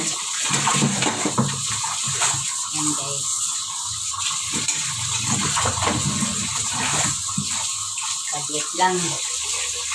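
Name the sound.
running water while washing dishes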